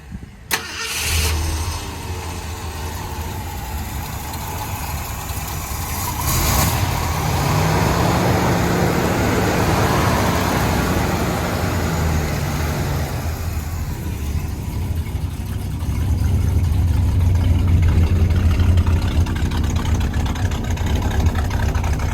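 A 1970 Mercury Monterey engine idles steadily nearby, then revs up and settles into a sustained rumbling run, with no talking over it.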